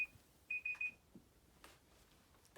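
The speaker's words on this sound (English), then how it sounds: "And when the timer goes off unexpectedly, don't worry, it's fine." A small tea timer alarm goes off with a few quick, bright beeps in a short burst, clear and close in an otherwise quiet room.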